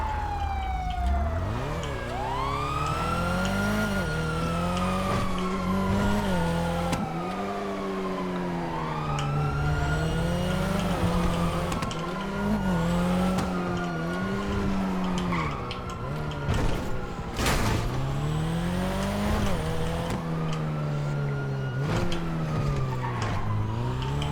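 A video game car chase on a roleplay server: engines race, tires squeal and skid, and sweeping siren-like wails rise and fall continuously and loudly throughout, with no one speaking.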